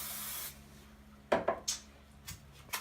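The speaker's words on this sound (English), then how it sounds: "I'm just gonna spray some of my cooking spray on my pan" Cooking spray hisses onto a pan on a stovetop at medium-high heat in a burst of about half a second, then several light clanks and knocks of the pan and utensils follow in quiet surroundings.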